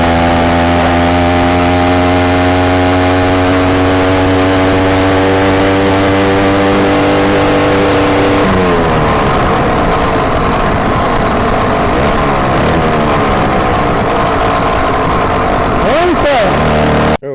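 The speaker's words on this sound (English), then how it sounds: "now let's see what kind of top speed I can get out of her without revving it too high" A motorized bicycle engine on a 44-tooth rear sprocket drones loud and steady at top speed, a clean buzzing note that then wavers and shifts as the pitch rises and falls near the end.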